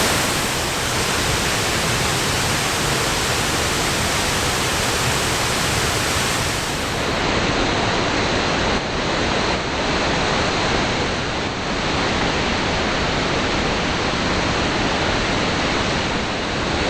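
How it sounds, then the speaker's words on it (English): A roaring waterfall, roughly 60 to 70 feet high in Washington State, sends out a steady, dense rush of falling water that stays loud and unbroken throughout. "it's just a gorgeous, gorgeous waterfall."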